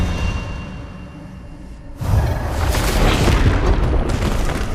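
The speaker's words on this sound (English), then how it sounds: "Expelliarmus!" Expelliarmus spell effect in the video game Hogwarts Legacy: a sudden loud booming whoosh that bursts in midway and sustains as a roaring blast, following a quieter stretch.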